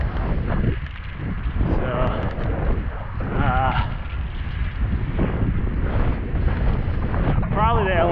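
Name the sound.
wind blowing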